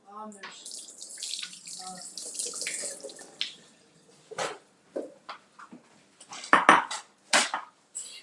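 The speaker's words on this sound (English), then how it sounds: "we've got our raspberries washed" A kitchen tap runs into a sink while raspberries are washed, a steady splashing stream that gives way to intermittent bursts of water and clinks of dishware.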